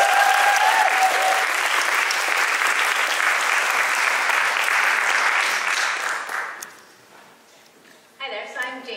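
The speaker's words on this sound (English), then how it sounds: "Round of applause," Audience at a Pierce College award ceremony applauding a division's students, loud dense clapping for about six seconds that quickly dies away, followed by a voice beginning to speak.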